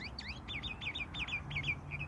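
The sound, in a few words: birdsong in a field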